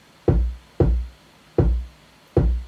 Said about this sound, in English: The kick literally sounds like